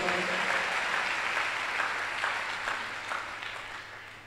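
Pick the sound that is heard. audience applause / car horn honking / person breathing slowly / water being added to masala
audience applause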